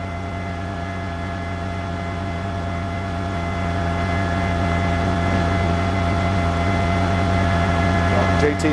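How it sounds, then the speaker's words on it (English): A constant low droning engine hum with steady tonal whine from a news helicopter flying over an oil refinery area, heard from inside, unchanging throughout with no talk. "JT Alba, the helicopter reporters, flying over one of these oil refinery areas right now."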